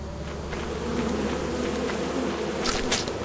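A swarm of bees buzzes steadily from a beehive in the video game Lethal Company, a dense continuous drone that stays loud and close throughout, with a few brighter swells near the end.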